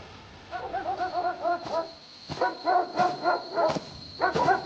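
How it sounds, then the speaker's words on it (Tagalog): Dog barks in a scene of an aswang horror audio drama: clusters of yapping barks, two or three at a time in quick succession, fairly close and loud against a steady high background hiss. "Aso lang yan dito."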